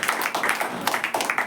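A church congregation claps along at a sermon, a quick run of rhythmic, fairly loud handclaps heard close.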